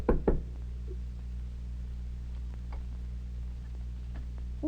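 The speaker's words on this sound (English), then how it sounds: "Oh, somebody knocking at the door, Josh?" Two quick knocks on a door near the start of a 1952 live television puppet show, followed by a quiet room hum with faint scattered ticks.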